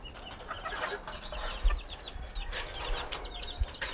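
Hungry White Hatch gamefowl chickens cluck and stir restlessly in a yard, their calls scattered over a steady outdoor background with a few soft thumps.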